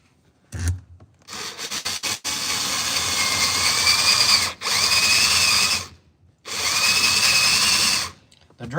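A power drill bores into a Lokar floor shifter knob in long, loud, close whining runs broken by brief pauses, with grinding bite and a few short start-stop bursts at the beginning.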